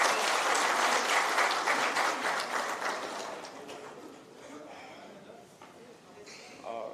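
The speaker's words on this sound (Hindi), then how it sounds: "आइए तालियों के साथ दोबारा इनका स्वागत करें" An audience claps to welcome a speaker at a felicitation ceremony. The applause is loud and dense at first, then thins and fades toward the end, with a few scattered claps lingering.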